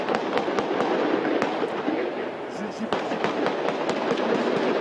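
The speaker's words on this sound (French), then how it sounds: "Tout de suite, les premiers coups de feu." Rapid, intense gunfire from a police tactical assault on a hostage-taking in Vincennes, sharp cracks firing in quick irregular bursts throughout, with shouting voices and commotion mixed in.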